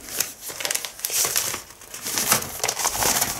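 Paper sheets crumple and crinkle steadily at close range, a dry rustling that swells and fades in bursts while newspaper is scrunched up for packing material.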